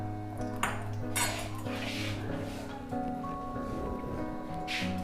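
A metal cooking pot is handled, with a few clanks and ringing knocks over a low steady background hum.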